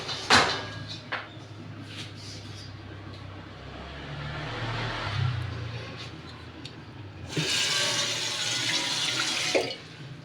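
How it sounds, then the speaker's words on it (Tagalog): Water runs from a tap and splashes into a cooking pan (kawali), starting with a clunk, settling into a steady trickle, then surging into a louder, fuller pour before stopping with a knock. "Yung kawali, nilagyan ko ng tubig."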